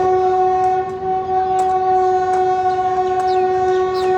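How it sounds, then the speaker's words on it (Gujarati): A WAP-4 electric locomotive hauling the Rajkot–Porbandar passenger train sounds its horn in one loud, sustained blast, close by and steady, over a rumbling background with no talking. "અહીંયા આવી ગઈ છે પોરબંદર રાજકોટ પેસેન્જર ટ્રેન"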